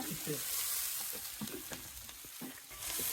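Onion and green chilli sautéing in oil with garlic and ginger for Kerala-style chicken cutlets, a quiet continuous sizzle broken by soft scraping stirs of the pan.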